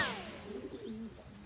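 Pigeons coo in a brief, soft, low warbling call in an animated cartoon scene, heard alone and fairly quiet.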